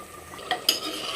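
Cauliflower being stirred in a pan while cooking dhaba-style gobi, with a couple of sharp spoon scrapes and clinks against the metal over a faint, quiet background sizzle.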